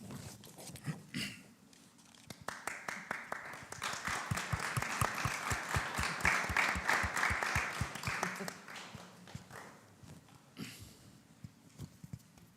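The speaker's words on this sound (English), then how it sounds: "give that person an applause" Audience at a travel conference session applauding, scattered claps building into a steady round of clapping that peaks mid-stretch and then thins out to a few stray claps, fairly distant.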